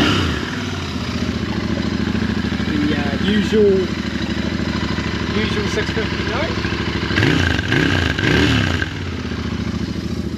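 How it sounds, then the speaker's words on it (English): Royal Enfield Interceptor 650 with its stock standard exhaust idling nearby, a steady engine burble with a couple of brief revs, someone talking over it. "we'll do a little bit of comparison test between the stock standard exhaust with the Lextek aftermarket slip-ons"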